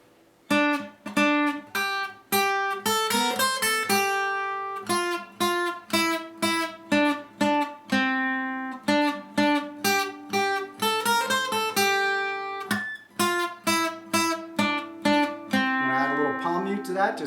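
A guitar plays a song melody as a clear, close run of plucked notes in a steady repeating rhythm, with no talking over it.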